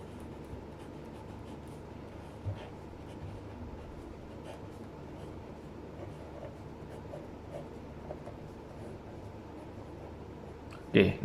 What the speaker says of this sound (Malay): Okey, tulis nombor ni dekat dalam.